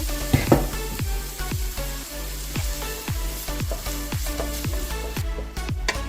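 Onions sautéing in extra virgin olive oil, a close, busy sizzle broken by regular scraping stirs and light utensil knocks against the pan at a quick, even rhythm, with no talk.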